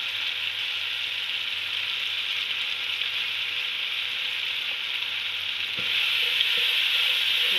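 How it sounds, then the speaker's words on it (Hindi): Red chili and lemon juice being stirred in a pan while cooking pulao, giving a steady, close frying hiss that continues throughout and grows slightly louder near the end, with no talking. "इसको अच्छे से मिक्स कर लेते हैं।"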